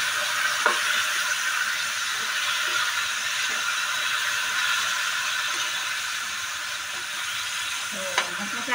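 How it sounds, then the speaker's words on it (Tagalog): Marinated chicken sizzles and fries in a pan with garlic and onion, a steady loud crackle and hiss with occasional stirring clinks. "So, ilalagay ko na itong minarinate kong chicken."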